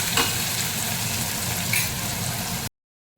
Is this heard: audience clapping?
no